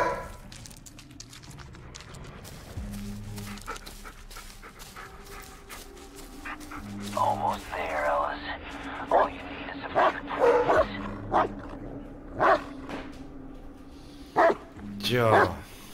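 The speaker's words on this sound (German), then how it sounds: "jetzt bellt mein Hund auch schon mit." A real dog in the room barks in several short, sharp bursts over eerie forest ambience from the Blair Witch horror game, with intermittent talk between the barks.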